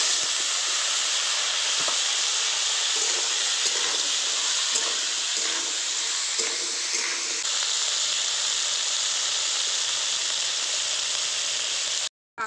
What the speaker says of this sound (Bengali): তেল গরম হয়ে গেছে, এবার কাঁকড়াগুলো দিয়ে ভেজে নেব।